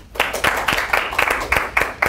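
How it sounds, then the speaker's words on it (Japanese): A studio audience on a Japanese business pitch show claps together, a burst of fairly close, rhythmic claps starting sharply and staying steady for about two seconds with no talking. "条件付きオールということで拍手だけお願いします"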